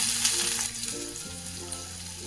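Onions and chana dal fry in hot oil in a pan, a steady close hiss of sizzling with a few soft stirring scrapes, without talk.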